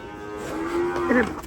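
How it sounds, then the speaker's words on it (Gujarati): Bullocks at a cowshed give a single low, drawn-out moo that rises into a louder, throaty call near the end, heard close and clear against faint background. "અહીંયા બળદ છે જો કેવા મસ્ત ના છે"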